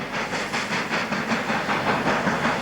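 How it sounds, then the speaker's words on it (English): The Flying Scotsman steam train passes near Midvale on the Bassendean straight in Western Australia, heard as a loud, steady hiss and rush with rhythmic chuffing pulses that hold close throughout. "The Flying Scotsman train seen here on the Bassendean Strait and passing Midvale."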